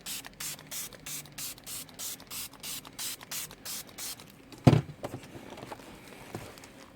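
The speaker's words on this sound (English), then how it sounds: "now I'm just going to spray it with some water to spread it around" Rapid series of short hissing spritzes from a spray bottle, about a dozen in a steady rhythm, then a soft thump and quiet handling.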